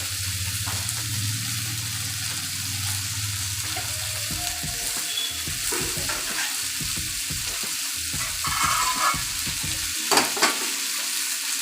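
Jackfruit seed curry frying in a pan, stirred with a spatula: bursts of scraping and sizzling close up, with a low rumble early on and brief clatters near the end.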